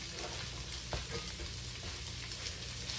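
Carrots, shallots, ginger and pork sizzle steadily in a hot pan turned up to medium-high for pineapple fried rice, a dense continuous fry with a brief clatter of stirring near the middle and no talking.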